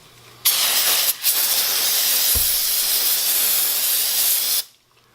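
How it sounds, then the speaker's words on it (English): Brake cleaner sprayed onto a brake caliper from an aerosol can, one loud close hiss lasting about four seconds with a brief dip early on, then cutting off abruptly. "I'm going to spray the shit out of it with some brake clean."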